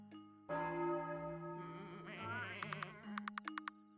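A video game bell rung to call sheep to feed in a snowy setting, sounding a sustained ringing tone with overtones, followed by a quick series of bright metallic strikes.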